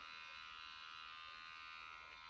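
A BB glow microneedling machine runs with a steady, high-pitched electric buzz, constant and unbroken throughout, quiet and close with no talking over it.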